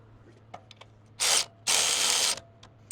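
A power tool drives down the lock nut on a sway bar quick-disconnect bracket of a Mojave, passenger side: two close, sharp whirring bursts, a short one then a longer one, after scattered small clicks.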